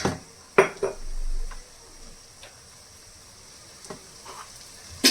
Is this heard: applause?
no